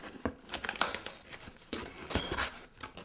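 A blade cuts open the cardboard box of a Canon T3i Rebel 600D camera in a quiet room. It makes several short, scratchy slicing and crinkling sounds in uneven bursts.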